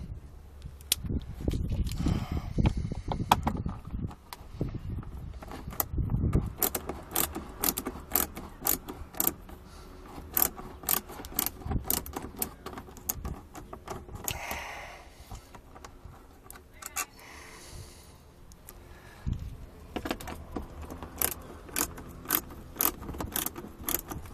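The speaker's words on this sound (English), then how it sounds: "They are Torx T20 screws. Also pretty easy to remove. I'm going to go ahead and do that now." Torx T20 screws being backed out of a Jeep Cherokee rear speaker mount, giving a run of small metallic clicks, tool rattles and handling clatter, close by and steady throughout with no talk.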